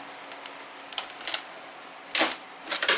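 Clear-cast model car bodies snap out of clear molds in a quick series of sharp plastic pops and crackles, a few scattered small clicks followed by two louder bursts near the end, close up with no talking.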